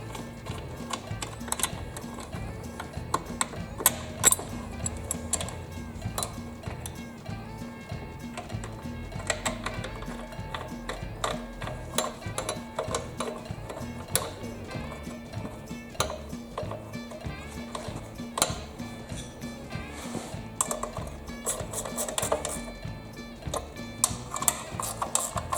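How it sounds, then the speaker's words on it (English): Screws are driven back in and tightened on the belt guard of a Toro 30-inch Time Master mower, a long stretch of quiet, irregular clicks and ratchet-like ticks close by with small tool clatter. "Now you can put these screws back in and tighten them down."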